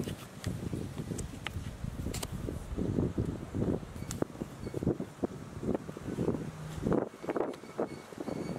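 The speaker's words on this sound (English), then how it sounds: "it's extremely windy outside" Strong gusts of wind buffet the microphone outdoors, a constant low roar with rustling surges and no talking.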